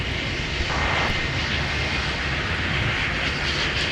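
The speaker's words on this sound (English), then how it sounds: "let's take another look at our 767 touchdown" A Boeing 767 jet lands at MSP airport, its engines giving a steady, fairly distant roar that holds evenly throughout.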